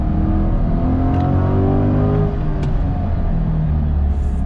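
A 2022 Chevrolet Corvette C8 engine pulls hard on throttle, loud and close, with a rising harmonic growl climbing steadily through the rev range and no pause.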